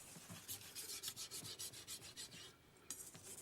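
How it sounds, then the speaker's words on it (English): A Japanese kitchen knife hand-sharpened on a stone by a master sharpener, quick rhythmic back-and-forth rasping strokes, near and close, about four per second with a brief pause, no voices. "He completes the process by sharpening the knife's tip."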